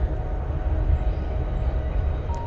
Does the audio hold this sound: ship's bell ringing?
no